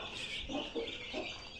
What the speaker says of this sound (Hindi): ये हमारी लाखी मुर्गी, हमने इसको इसके साथ छोड़ा है।